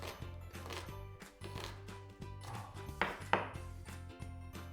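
A knife dicing an onion on a cutting board, quick repeated chops in an uneven rhythm, close and fairly quiet, with a steady low hum underneath.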